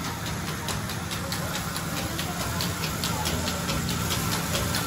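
A large polishing machine runs continuously while a balisong knife is finished, a loud dense mechanical roar with a faint regular pulsing throughout.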